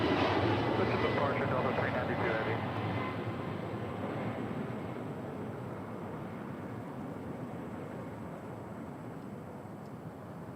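A Delta airliner departing LAX makes a steady, broad roar that slowly fades over about ten seconds, heard from a distance.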